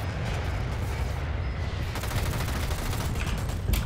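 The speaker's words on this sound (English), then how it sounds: "here comes another airstrike" An airstrike in the Dirty Bomb shooter game rains down as a rapid, dense barrage of loud crackling blasts and booms that runs without a break, with no voices over it.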